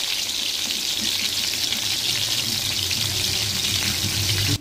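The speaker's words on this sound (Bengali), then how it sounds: "আমি সাদা তেলে ভাজছি" Shrimp patturi wrapped in leaves fries in white oil with a constant, close, bubbling sizzle that carries on evenly without pause and with no talking.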